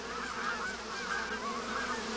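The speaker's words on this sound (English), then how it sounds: "So we have a whole swan family here, or a duck family." A family of swans or ducks honks in a virtual-world setting, repeated nasal calls over a low steady background hum, moderately quiet and continuous.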